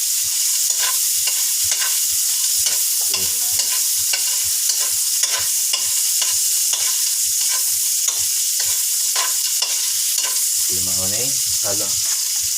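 Gaid is stirred in a pot on the stove, a steady run of spoon scrapes and knocks repeating every half second or so over a constant bright sizzle, with a brief burst of bubbling near the end.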